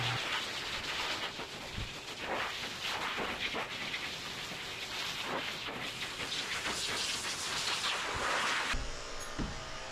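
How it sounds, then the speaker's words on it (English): A fan runs in a dog grooming room for a Cavalier King Charles Spaniel, a steady broadband airy hiss holding level throughout before shifting abruptly near the end. "I'm also turning the fan on to boost the airflow."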